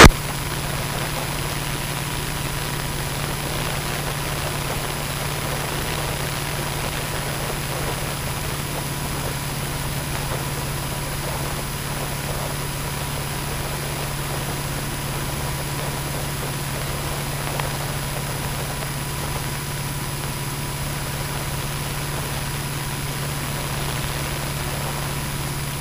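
A Luscombe light aircraft's propeller engine idles steadily, a constant low droning hum with a faint higher whine, holding even and close throughout with no talking.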